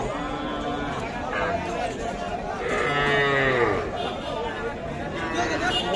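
A calf moos at a busy cattle market at Jabarhat, one drawn-out low call rising above the steady chatter of a crowd of traders and buyers.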